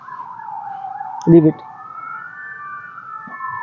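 A siren outdoors in Poland wails in a continuous rising and falling tone, heard at moderate distance behind a man's brief spoken words.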